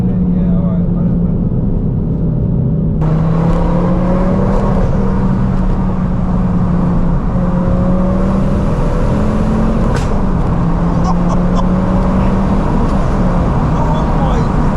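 A Ford Focus ST engine drones loudly and continuously from inside the car as it accelerates, its pitch climbing in gentle sweeps over steady road noise.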